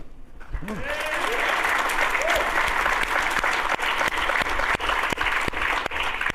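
Sustained applause from a large crowd fills the room, dense and steady throughout, with a voice briefly audible at the start.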